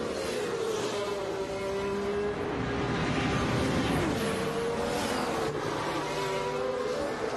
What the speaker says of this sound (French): D'abord, on se fait un petit tour avec Lewis Hamilton. Audio up